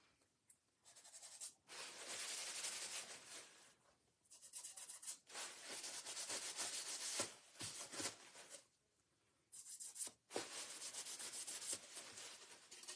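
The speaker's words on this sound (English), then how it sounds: "now I'm just going to take this wax again and just kind of hit those areas and get a little bit darker" Wax rubbed by hand onto a Valentine's Day craft piece, a dry scratchy rubbing in several sustained bursts separated by short pauses, close and moderately loud with no talking.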